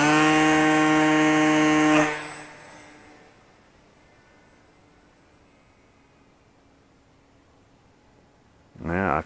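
An RC 3D plane flown with a WFLY ET16S transmitter passes close with a loud, buzzing motor whine, fades far off into near silence, then screams back in at the end.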